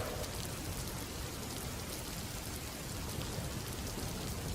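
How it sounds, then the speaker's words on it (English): Heavy rain pours down at night in Charlotte, a loud, even hiss of drops striking surfaces that holds steady throughout with no voices. "It rained like hell."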